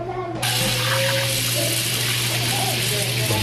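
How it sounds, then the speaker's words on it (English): Kitchen tap water runs steadily over a steak being rinsed, a continuous splashing rush with a low hum beneath it, starting abruptly and holding even throughout. "Rinsing off the steak."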